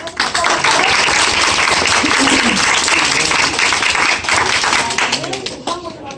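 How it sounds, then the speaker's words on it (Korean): Loud, close applause from the audience at the final of a 2018 high school book club debate contest in Wonju, many hands clapping in a dense burst that swells and then tapers off toward the end. "다 같이 박수"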